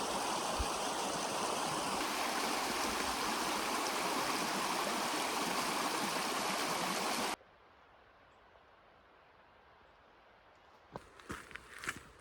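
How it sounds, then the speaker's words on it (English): Steady broadband rush of the Little Missouri River flowing along a hiking trail, loud and continuous for about seven seconds, then cutting to a quiet background with a few soft knocks and rustles near the end. "Made it to the Little Missouri River, and man, this is just beautiful."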